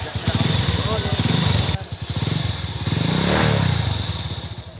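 A yellow secondhand motorcycle, bought at a warehouse sale, has its engine test-run; a steady close putter with a few rises in revs runs throughout, under talk.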